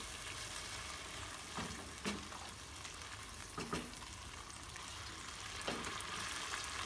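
Hot water bubbles and sizzles in a pan with Padang sauce spices for mussels, a steady close hiss broken by occasional clinks of stirring.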